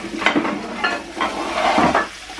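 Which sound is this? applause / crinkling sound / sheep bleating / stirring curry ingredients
stirring curry ingredients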